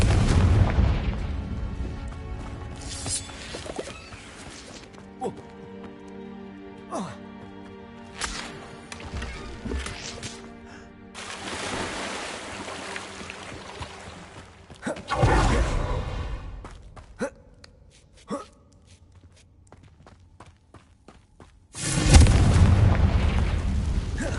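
Confringo explosive spell in Hogwarts Legacy, repeated sharp fiery blasts and booming explosions, some isolated cracks and a couple of heavy roaring bursts, set against quieter game ambience.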